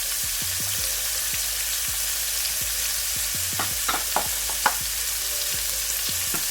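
Onions frying in a pan for fried rice, a constant sizzle with a spoon or spatula scraping and stirring in irregular strokes, a few sharper clinks near the end, close and without talk.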